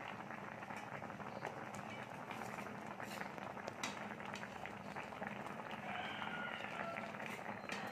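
Milk pitha mixture for malai patishapta boiling in a pot, a dense steady bubbling and popping that keeps going without pause, fairly close.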